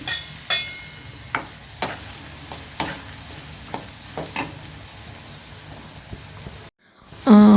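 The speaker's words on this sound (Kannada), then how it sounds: "ಹಸಿಮೆಣ್ಸಿನ್ಕಾಯಿ, ಈರುಳ್ಳಿ ಏನು ಹೆಚ್ಚಿಟ್ಕೊಂಡಿದ್ನಲ್ಲ ಅದನ್ನು ಆಯಿಲಲ್ಲಿ ಹಾಕ್ಕೊಳ್ತಾ ಇದ್ದೀನಿ" Oil sizzles steadily as onions and green chillies fry, with sharp crackles and stirring clicks recurring every half second or so, then a brief silence and a louder clatter.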